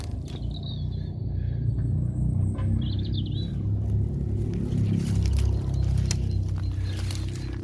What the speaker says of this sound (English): That noise is the odd quad bike from the farms.